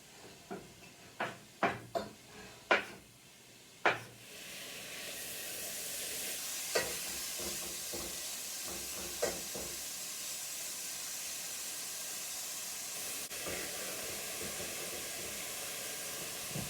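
Bacon frying in a pan for potato soup, a steady loud sizzle and hiss that rises after a few sharp knocks and clatters at the start, then carries on with occasional stirring scrapes.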